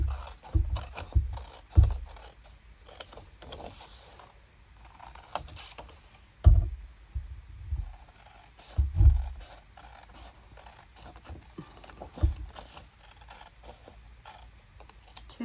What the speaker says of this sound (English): And then cutting just inside the score